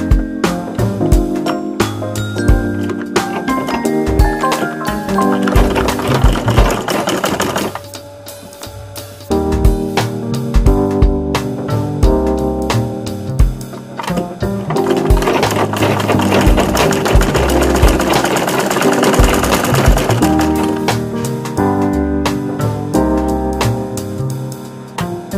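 Sewing machine stitching a folded edge on a handkerchief, loud and close with a rapid steady mechanical clatter running in long bursts, briefly pausing twice before resuming.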